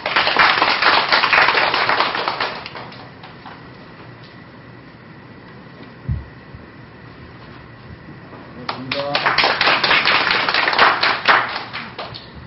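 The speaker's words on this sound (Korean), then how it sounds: "박수로 모시겠습니다." Applause welcomes a speaker at a newspaper's anniversary forum on youth and clean media: a loud crowd clapping fades out, a quiet gap with one thump follows, then a second strong round of clapping rises.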